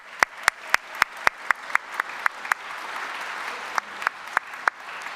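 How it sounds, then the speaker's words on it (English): Clapping from a crowd, with a run of sharp, loud individual claps standing out over a steady wash of applause. "Round of applause for them."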